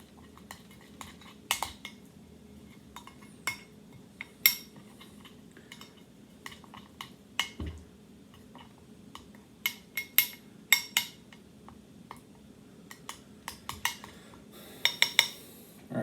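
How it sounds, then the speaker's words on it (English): Flour being mixed in a bowl, heard as irregular spoon taps, scrapes and clinks against the dish, close and sparse over a quiet background, growing busier toward the end. "All right, I'm going to mix it all up."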